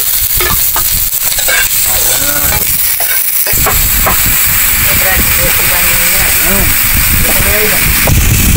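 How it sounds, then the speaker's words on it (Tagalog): Garlic and ginger frying in hot cooking oil in a pan, a steady close sizzle and hiss with stirring scrapes throughout, while a voice talks over it. "Sinayin natin ng mantika. Kaslayan naman ng bawang, and then luya."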